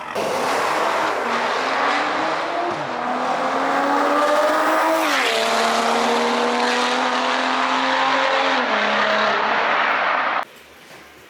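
A BMW engine revs loudly and climbs in pitch, dipping and rising again as it accelerates nearby, then cuts off abruptly near the end.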